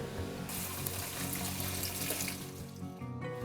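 Tap water runs steadily through a strainer, rinsing tomato seeds, in a continuous close splashing rush that holds level for the whole stretch, with no talking.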